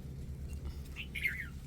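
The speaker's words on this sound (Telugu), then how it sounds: "పక్షులు చూడండి ఎలా అరుస్తున్నాయో" A few brief, faint bird chirps rise over a steady low hum in a maize field.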